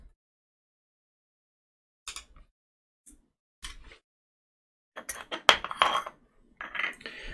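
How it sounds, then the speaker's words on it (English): Small metal clicks and scrapes while four screws come out of the landing gearbox on a 1/18 scale model Spitfire Mk 1A, sparse faint ticks, then a busier cluster of close clinks near the end. "So literally, we're just going to get these four screws out."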